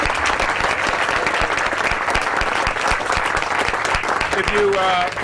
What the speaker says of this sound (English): So how about some polite applause for those remarks?